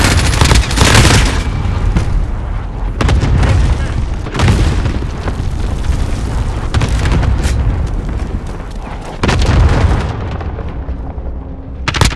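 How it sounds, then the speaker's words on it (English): Cluster strike explosions in Call of Duty Modern Warfare, a dense run of loud, deep booms and blasts rolling almost without pause, with heavier detonations near the start, around the middle and toward the end, and a radio voice briefly heard. "Good copy. Cluster strike away."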